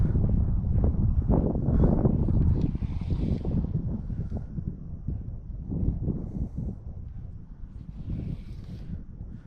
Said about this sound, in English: The wind's actually dropping off a bit